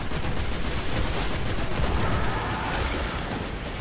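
A new auto rifle in the game Destiny fires in a dense, unbroken burst, its rapid shots blending into a loud, steady roar that holds for several seconds.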